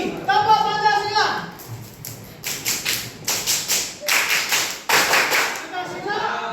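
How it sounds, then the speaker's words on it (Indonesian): A classroom of students performs the Tepuk Pancasila clapping chant, with a group voice chanting first, then bursts of rhythmic, patterned hand claps, near and fairly loud, alternating with chanted words. "Tepuk Pancasila"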